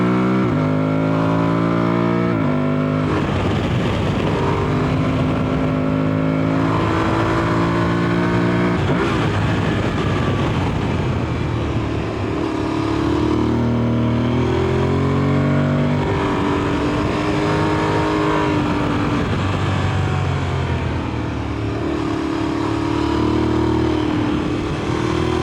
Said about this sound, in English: So being chased down by a BMW GS.